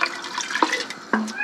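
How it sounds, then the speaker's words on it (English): Water poured into a pot of mango chutney, short splashy trickles with a couple of sharper liquid bursts, close and moderately loud. "I'm gonna add a little bit more water to that"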